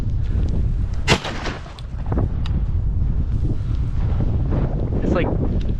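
A shotgun fires a few sharp blasts at birds during a duck, goose and dove hunt, outdoors under steady wind noise, with a voice speaking briefly.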